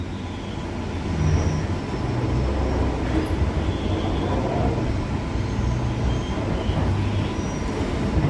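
Transperth A-series electric train crossing tracks slowly, a steady low rumble of wheels and running gear heard from on board, continuous and fairly loud throughout with no talk.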